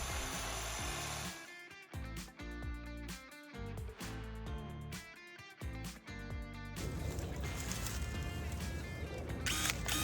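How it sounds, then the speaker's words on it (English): Powered hedge trimmers work through the lower branches of a hedge, giving loud, choppy bursts of buzzing blade noise broken by short pauses, then a steadier run of cutting, all close by with no talking. "I like to start trimming my lower branches and working my way up."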